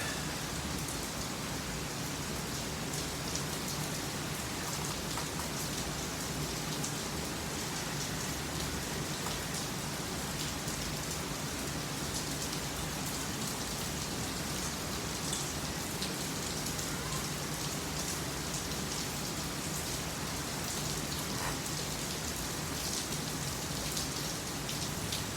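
Steady rain falls during a baseball rain delay, a constant dense hiss of drops on surfaces that holds at an even level for the whole stretch, with no voices.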